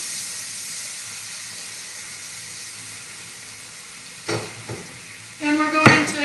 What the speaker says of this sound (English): we're going to keep stirring the risotto until it begins to absorb